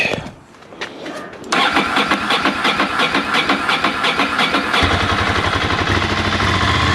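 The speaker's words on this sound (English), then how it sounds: "I'm just going to try start up. Get a bit of choke." Old Ducati Monster 600 motorcycle engine with fresh timing belts and covers off, started on choke: starter cranking catches after a second and a half into a loud, steady, near idle that settles into a deeper, lumpier beat.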